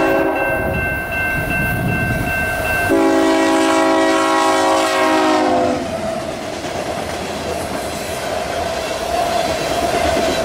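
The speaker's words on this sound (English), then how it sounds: "Train 583 approaches speeding westbound with a 1x1 engine setup, and all being Union Pacific power." A westbound Union Pacific-powered Canadian Pacific empty crude oil tanker train speeding past with two locomotives, its loud multi-tone horn blaring for several seconds over a steady rumble and clatter of wheels on rail.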